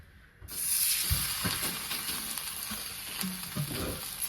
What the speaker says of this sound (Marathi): गॅसवर तवा ठेवलाय तव्यावर थोडंसं तेल टाकून घेतलं